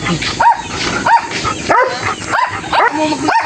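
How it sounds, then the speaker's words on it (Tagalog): Several dogs bark in short, repeated bursts, some sharp and high like yips, fairly close, with people talking faintly in between. "Tayo po yung mga alaga nilang aso."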